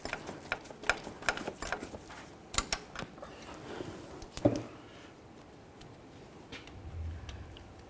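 A twist socket works a stripped T27 Torx bolt on the transmission of a 1998-2011 Ford Ranger 2.3L, close metallic clicks and ratcheting taps in an irregular run, then quieter scraping.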